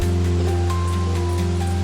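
Water rushing at Kalathigiri falls near Chikmagaluru, a dense continuous roar heard close and loud, with a steady low hum beneath it and no talk.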